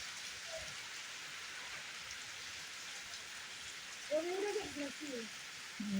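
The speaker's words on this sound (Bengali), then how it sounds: "এই যে বৃষ্টি তো হইলে এটা ভিডিও করলাম" Steady rain hissing down, a continuous wash of noise throughout, with a brief faint voice-like sound near the end.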